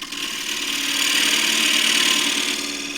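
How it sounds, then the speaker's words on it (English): A 3/4 inch square end scraper cutting a Tasmanian blackwood bowl on a lathe gives a continuous hissing, rasping scrape that swells and eases over a few seconds, close up, with no voice. "I'm using a 3/4 inch square end scraper"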